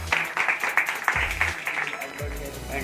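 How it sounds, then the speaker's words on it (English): A small class applauds a student's turn, a short burst of mixed clapping with a couple of low thumps, lasting under three seconds and fading into quiet chatter. "Clap."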